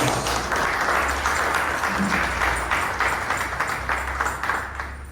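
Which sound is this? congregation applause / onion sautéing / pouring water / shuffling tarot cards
congregation applause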